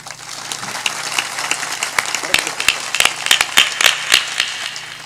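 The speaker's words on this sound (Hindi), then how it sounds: "ताली जोरदार बजाओ।" Audience applause at a spiritual discourse gathering, steady clapping swelling with sharp individual claps standing out, under a faint background hum.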